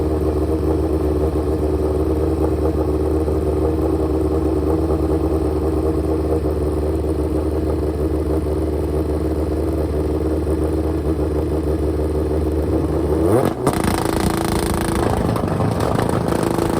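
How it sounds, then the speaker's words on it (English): A nitrous-fed street tire drag motorcycle, billed as the world's quickest, holds a loud, steady engine drone for a long stretch before a sudden rev surge near the end. "This is the world's quickest nitrous street tire bike"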